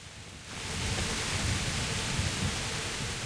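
A heavy thunderstorm in the medieval game Kingdom Come: Deliverance, with rain that swells in after a short pause into a loud, steady hiss over a deep low rumble and no voices.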